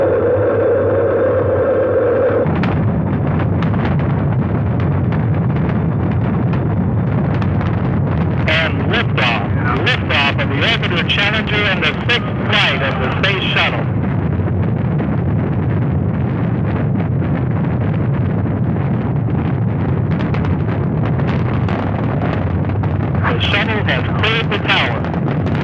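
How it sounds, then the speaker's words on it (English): Space Shuttle main engines ignite in 1983, a huge sustained roar with wind-like buffeting and crackling bursts, loud throughout and overlaid by a voice talking. "We have main engine ignition."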